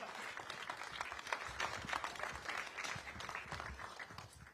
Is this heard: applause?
yes